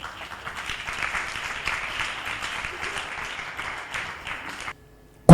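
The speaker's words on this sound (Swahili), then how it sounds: "Makofi kwa Yesu." A church congregation claps and applauds for Jesus during a sermon, a dense steady round of clapping that cuts off abruptly near the end.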